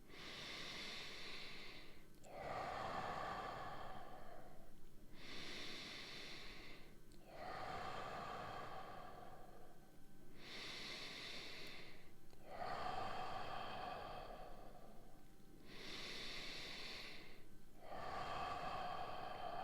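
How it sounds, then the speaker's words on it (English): Slow, deep breaths during a breathwork exercise, about five strong nasal inhales and exhales in a steady rhythm, close and clear, each breath a long hissing draw followed by a release. "5 deep breaths"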